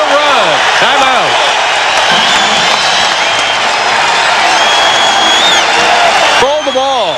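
A loud 1994 Nets versus Knicks playoff arena crowd roaring for the Knicks during a run, a dense continuous din with cheering swells, an announcer talking over it.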